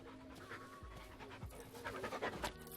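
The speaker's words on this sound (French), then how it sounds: "C'est une vieille chienne." An old female dog pants close by in quick, rhythmic breaths, with soft whimpery tones woven in. The sound stays fairly quiet, and no one speaks.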